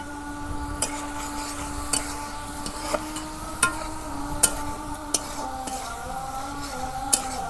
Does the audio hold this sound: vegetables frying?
yes